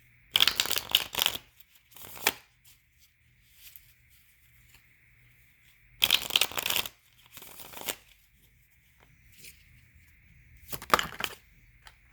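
A tarot card deck shuffled during a reading, heard as three separate bursts of crisp riffling and flicking with quiet pauses between them, close and clear with no talking.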